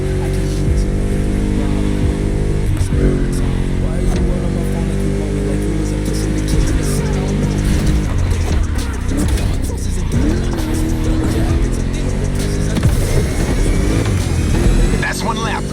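Car lapping a track in The Crew Motorfest, a loud, steady engine drone with shifting revs and tire noise, while a voice talks over it.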